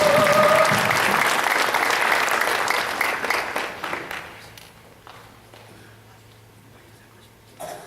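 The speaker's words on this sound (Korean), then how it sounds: "뜨겁게 환영의 박수 해주십니다" Loud applause from a large church congregation welcoming a speaker, dense and steady at first, then thinning into scattered claps and fading to near quiet.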